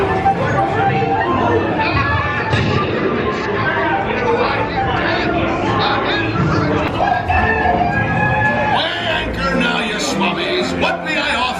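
Hens cluck and a rooster crows amid crowd chatter on an animatronic boat ride at Walt Disney World in Orlando, loud and busy, with people talking throughout.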